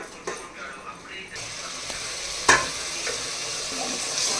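Tomatoes are stirred into prawn biryani masala as it fries in a pan. Steady sizzling runs throughout, broken by scraping stirs and one sharp clank near the middle, with faint voices in the background.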